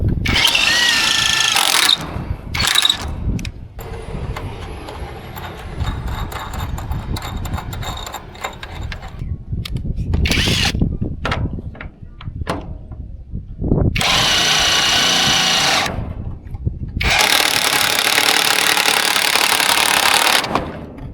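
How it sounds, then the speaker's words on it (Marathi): Power drill driving screws into metal roofing sheet on a village farm, loud bursts of whirring and grinding separated by short pauses, close and alone. "इथं आम्ही पत्रावर डायरेक्ट स्क्रू लावलेत देत"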